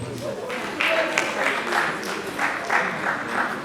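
A symposium audience claps for a contestant at the end of a quiz round, a modest patter of hands with uneven bursts rising and falling over a background murmur.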